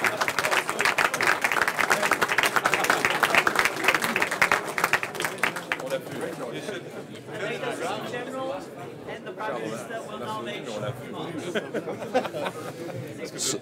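A crowd at the NATO Brussels 2018 summit logo unveiling, during a foreign ministers meeting, bursts into loud, dense applause that thins after several seconds, giving way to chatter and speech.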